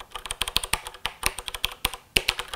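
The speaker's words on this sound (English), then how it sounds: "I love the mechanical switch sounds" Typing on a Corsair K63 wireless mechanical gaming keyboard, a rapid, irregular run of crisp clicky keystrokes from the mechanical switches, close and fairly quiet, with no talking.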